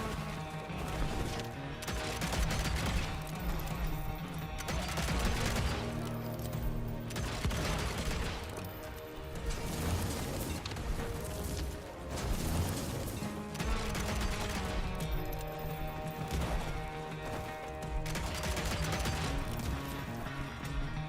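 Gunfire from a gun in the video game Evil West, dense repeated shots and crashing impacts running continuously through a busy, loud game soundtrack with no voice.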